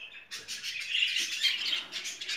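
Budgerigars, a breeding pair kept indoors in a cage, chirp and warble continuously at close range in a bright, chattering stream with no talk over them.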